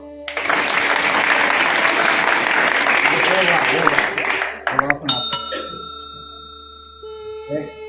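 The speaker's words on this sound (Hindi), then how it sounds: "ताली मारो।" An audience at a school farewell claps loudly and steadily for about four seconds, then the applause fades into scattered claps, a bell-like ring and a voice.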